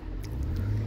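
Busy road traffic near Newbury, heard from inside a car as a steady low engine and tyre rumble, with faint passing-vehicle swells over the drone.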